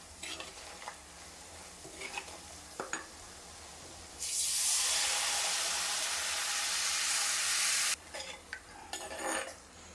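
Fish curry gravy in a pan hissing loudly as water is poured in, a sudden bright sizzle for several seconds between quieter stirring clinks and soft frying, close.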